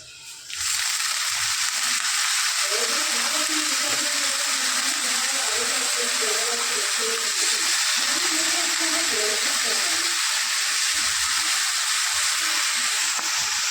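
Dill greens (shepu) sizzling as they are sautéed in hot oil, a loud, steady hiss that starts abruptly and holds throughout, with a voice talking over it.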